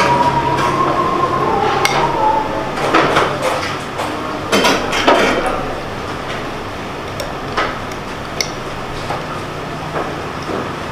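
A utensil stirs mixed seasoning in a pot of rib meatball soup at a food stall in Sidoarjo, making a run of sharp metallic clinks and scrapes, some clustered and loud, others sparse and lighter.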